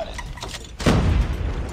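A heavy booming shot from the PDW-57 weapon skin in Call of Duty, a single loud low blast that swells midway and lingers as a rumbling roar, with no talk over it.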